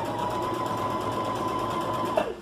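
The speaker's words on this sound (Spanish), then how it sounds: "No cortamos el hilo de la máquina." Sewing machine running steadily to chain-stitch patchwork quilt pieces for a table runner with a quarter-inch seam, a continuous close whirring hum that slows and stops near the end.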